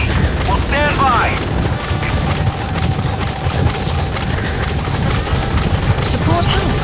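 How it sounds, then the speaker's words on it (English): A support helicopter arrives in the video game Metal Gear Solid V: The Phantom Pain, its rotor thrumming loudly and continuously beneath radio-style voice chatter. "Support helicopter has arrived."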